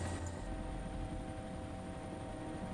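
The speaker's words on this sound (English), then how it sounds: "I hear a helicopter." A helicopter in the video game DayZ Epoch gives a faint, steady rotor drone with a constant low thrum, heard at a distance and alone for a few seconds.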